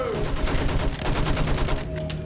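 Battlefield 1 video game battle gunfire, a loud, close burst of rapid overlapping shots that rattles on continuously amid the noise of combat.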